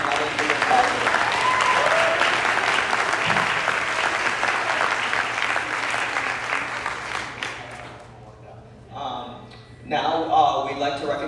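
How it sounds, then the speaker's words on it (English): An audience at a Bharatanatyam dance arangetram applauds loudly for several seconds. The clapping then fades out and people begin talking. "Can we please give a round of applause"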